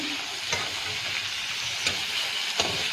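Jackfruit fries in a wok with a constant, close sizzling hiss, broken by a few sharp scrapes or taps of a spatula at intervals, with no voices.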